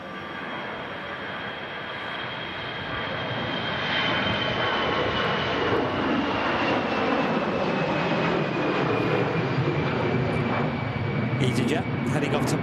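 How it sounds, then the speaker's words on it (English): An EasyJet jet airliner takes off from Manchester Airport, its engines a loud, steady roar that swells after a few seconds and then holds, with a person talking over it. "EasyJet heading off to Marrakesh."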